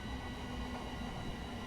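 A passenger train in Train Simulator Classic brakes on the approach to Finsbury Park, giving a steady, close rumble of rail running with a low hum and no voices.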